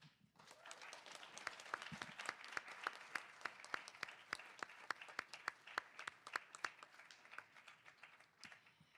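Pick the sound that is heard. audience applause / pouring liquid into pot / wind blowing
audience applause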